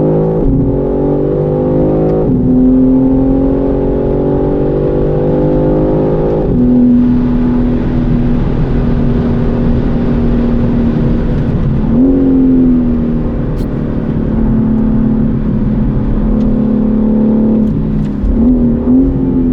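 A BMW M3 CS engine pulls hard on a race track's last lap, a loud close cabin drone climbing in pitch through several gears with quick shift dips, steady and without talk.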